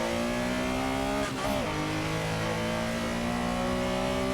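A race car engine in a VR racing simulator holds a loud, steady high-revving drone under full power, with a brief pitch dip and wobble partway through as it climbs a hill.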